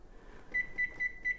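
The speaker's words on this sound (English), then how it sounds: "Set my timer" A kitchen timer beeps four times in an even rhythm while cauliflower bakes in an oven, the tones thin and fairly faint over a quiet room hum.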